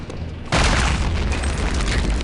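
A grenade goes off in Return to Castle Wolfenstein with one sudden loud, close boom that holds as a dense roaring rumble to the end.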